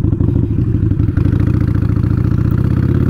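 A motorcycle engine runs loud and close with a steady rhythmic pulse, dipping briefly as the rider eases off the throttle and pulls the clutch for an upshift, then picking straight back up.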